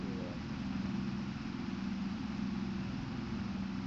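Modest tractor in Farming Simulator 25 hauling a full tipper trailer of nearly 21 tonnes at crawling speed, a steady low engine drone with a constant labouring hum, fairly close and alone.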